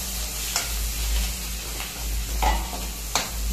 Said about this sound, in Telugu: ఈ ఉల్లిపాయలు కోసుకుని వేసుకుందాం.